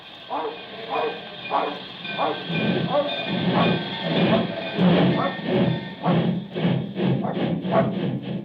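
A train rattles along with a rhythmic clatter of wheels over rail joints, steady and fairly close, with voices and yips mixed in at times.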